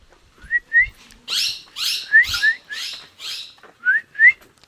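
A parrot calls repeatedly near a village path on the way to Pali in Ratnagiri, with short whistled chirps interleaved with harsh, raspy squawks in a rapid series.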